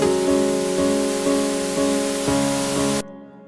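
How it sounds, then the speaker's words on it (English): Synthesized white noise washing over pulsing synth chords in a beat being built, a dense steady hiss that stops abruptly near the end, leaving only a faint tail. "we have our white noise recorded for the duration of this before the beat comes in"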